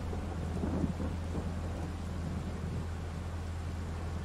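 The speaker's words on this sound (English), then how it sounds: "First, we gotta wait for the rain to stop." Steady rain and rumbling thunder in the Farming Simulator 22 video game, a constant loud wash of rainfall with a deep low rumble running underneath throughout.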